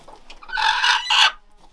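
A broody farm hen puffed up and clucking close by in a spring cabin yard, a burst of harsh, agitated vocal calls lasting about a second, loud against a quiet background.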